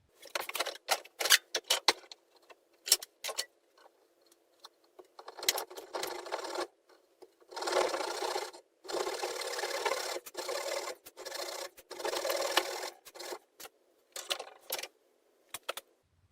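A hand saw cuts a half lap joint in wood, giving close, loud bursts of rasping strokes in irregular runs, some short and choppy, others longer and steady, with brief pauses between them.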